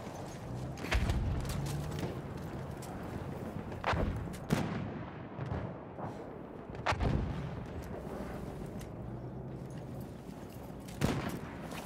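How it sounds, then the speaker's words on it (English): Battlefield 1 battlefield combat rages as enemy machine gun bursts and sharp gunshots crack through a rumbling backdrop of artillery booms, loud and irregular, with heavier blasts punctuating the steady din. "Feindliches MG da drüben!"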